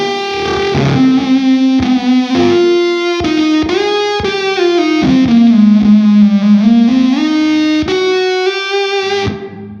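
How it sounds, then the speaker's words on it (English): An electric guitar played through a THOR fuzz pedal set for a traditional Tone Bender-style tone, a thick, distorted lead line of sustained notes and slides, loud and close, ending with a final held note that cuts off. "you can make this thing do more traditional tone bender type tones too."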